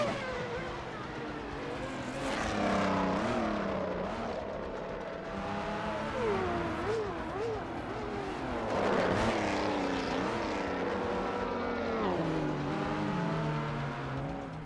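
Modded cars in the Assetto Corsa racing game rev and accelerate, engine notes climbing and dropping repeatedly through gear changes, loud and continuous without talk.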